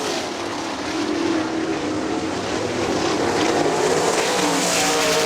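Sprint cars roar around the dirt oval at Kokomo Speedway, a loud continuous engine howl with shifting pitch as cars pass down the back straightaway, crowded and sustained without talk.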